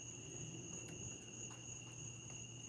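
Crickets chirp steadily at night at the Outer Banks, North Carolina, a faint continuous high trill with soft pulsing chirps over quiet background hiss.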